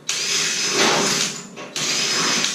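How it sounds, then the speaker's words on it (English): A loud power drill whines steadily while drilling out spot welds on a 1928–1929 Ford Model A firewall, briefly stopping and then starting again, close up with no talking. "you're going to take a drill or a spot weld cutter, your choice, and you're going to drill out the spot welds"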